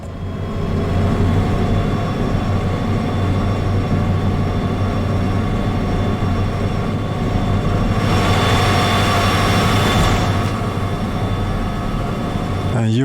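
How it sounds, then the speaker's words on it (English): Derail Valley locomotive wheels slipping and spinning on the rails, a loud steady mechanical roar with rumbling engine noise, swelling into a broader hiss for a couple of seconds near the end. "You just realized that you were wheel spinning."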